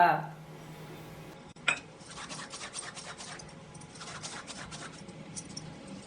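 A spoon mixes chili powder, black pepper, turmeric, cumin, salt, baking powder and oil in a bowl for homemade soya sticks, giving quiet, close, rhythmic scraping and clinking strokes after a brief knock.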